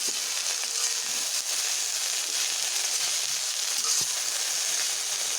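Fiddlehead ferns frying in a pan as salt is stirred in, a steady dense crackling sizzle with occasional scraping of the stirring utensil.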